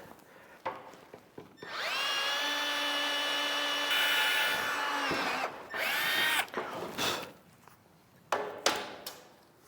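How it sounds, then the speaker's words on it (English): A power drill whines steadily as it pre-drills holes through 1/8 inch thick steel angle iron while building large barn doors, one sustained close run with short knocks and handling noises around it, no speech. "trying to go through 1/8 inch thick angle iron is going to take forever, so I'm going to pre-drill them"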